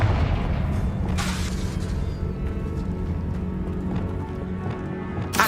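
A Confringo explosion spell in the Hogwarts Legacy video game gives a low boom amid steady game ambience and faint footsteps, without talk.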